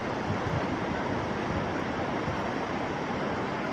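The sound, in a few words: rushing floodwater current after heavy rain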